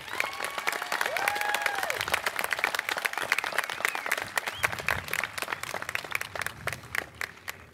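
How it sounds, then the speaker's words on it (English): A crowd at a high school graduation applauds its teachers with dense, steady clapping throughout, some cheering and whistles rising over the sound near and far, fading slightly at the end. "Can we give our teachers a big round of applause?"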